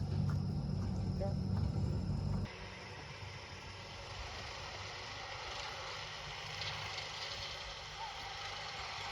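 A mower engine runs steadily while mowing a back pasture on a rural property, heard at a distance. A louder low rumble opens the stretch, then the engine drones on at a lower, even level to the end.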